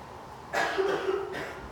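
A single harsh cough bursts out, fairly close and loud, rasping on for about a second before trailing off into quiet.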